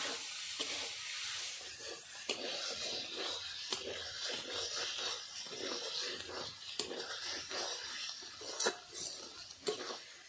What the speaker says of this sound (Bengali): ধনেপাতা কুচি আর লবণ দিয়ে আরেকটু নেড়ে নেব